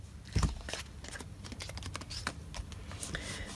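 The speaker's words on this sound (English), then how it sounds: "now I'm going to trim this away. Carefully." Scissors snip away the edges of paper glued into a handmade journal, producing a quick series of close, crisp cuts and rustles with a small thump of handling near the start.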